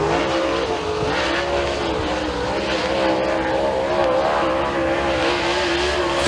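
A Super Late Model race car laps the track during qualifying at Thunder Mountain Speedway, its engine a loud, steady roar that rises and falls in pitch without a break for the whole stretch.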